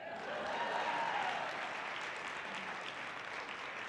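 A large audience at a celebration event claps together, a soft, even wash of applause heard from a distance that holds steady for several seconds without any voices.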